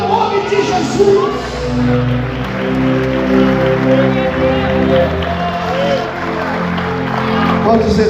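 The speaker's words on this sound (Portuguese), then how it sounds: "Quantos podem glorificar o Senhor e aplaudir ao nome de Jesus?" A church congregation at an Assembleia de Deus service applauds, a sustained patter of clapping from a crowd mixed under a voice and tonal music throughout.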